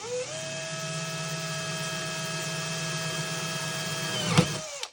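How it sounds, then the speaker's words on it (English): A power drill bores through metal while installing an off-road CMM FreedomLink mount. It gives a steady, close motor whine, then a sharp pop as the bit punches through, and the motor stops right after. "We're going to drill this, and we're going to very carefully"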